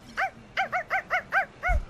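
A player imitates a dog, giving a quick series of six or so short barking yelps close to the microphone during a Darwin Project game session.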